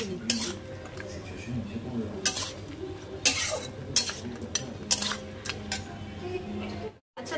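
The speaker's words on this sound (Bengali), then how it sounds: "আমি কিন্তু মশলাটা কষছি" Masala with whole green chillies is stir-fried in a pan, sharp metallic spatula scrapes and clinks ringing out at irregular intervals over a low sizzle, with someone talking in between.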